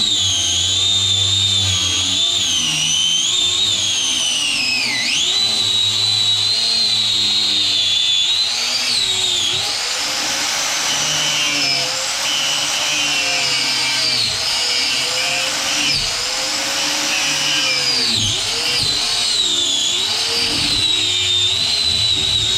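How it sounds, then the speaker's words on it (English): An angle grinder with a cutoff wheel cuts through bus heater lines, whining loudly and continuously at close range, its pitch dipping repeatedly as the wheel bites and then recovering, with no talk. "To cut the lines, I'm just going to go and use my cutoff wheel on my grinder."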